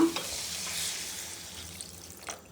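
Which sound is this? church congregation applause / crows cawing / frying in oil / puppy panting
frying in oil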